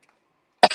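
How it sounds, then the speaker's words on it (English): One short, harsh cough after a bong hit, close and loud, breaking a near-silent pause and tailing off in a brief rasp. "And cough."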